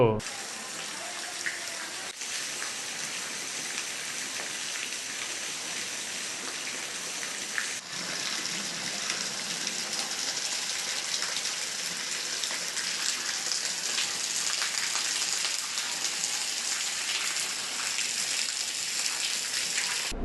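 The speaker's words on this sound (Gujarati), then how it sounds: "વરસાદી માહોલ વચ્ચે સિયોર શહેર અને તાલુકાના ગામડાઓમાં વરસાદ પડ્યો હતો" Rain falls steadily over villages near Sihor in Bhavnagar district, a continuous even hiss of water that stays constant throughout with no clear talk over it.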